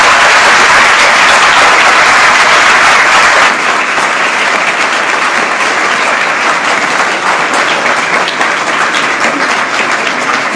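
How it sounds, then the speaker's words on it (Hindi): Audience at a stage play of Premchand's novel Rangbhumi applauding, dense continuous clapping filling the room loudly throughout, easing slightly partway but carrying on steadily to the end. "एक बार जोर से तालियां बजाइए"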